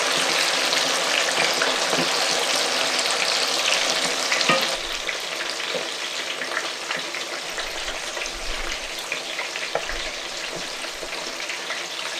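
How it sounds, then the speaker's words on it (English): Meat fries in a pan for jollof, giving a dense, close, continuous sizzle that eases slightly partway through and keeps crackling steadily with no talking. "I am going to let this fry till it is crispy and looks a little dark brown."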